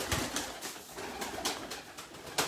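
Pigeons coo at a bird market, soft repeated throaty coos in an irregular rhythm, fairly faint with a few slightly louder calls and no voices.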